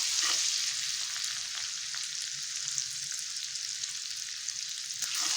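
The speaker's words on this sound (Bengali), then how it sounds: "আদাটাকে একটু ভাজা ভাজা করে নেবো" Chopped ginger frying in hot oil on a home stove, a steady close crackling sizzle with occasional soft stirring scrapes, continuous and alone without voices.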